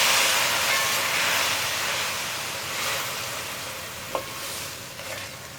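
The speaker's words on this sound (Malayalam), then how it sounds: "ശർക്കരപ്പാനി ചേർത്തിട്ട് ഇളക്കി കൊടുക്കുക." Jaggery syrup is stirred into poha payasam over heat, giving a loud, continuous bubbling hiss that swells and fades slightly, with a single faint clink of the spoon near the end.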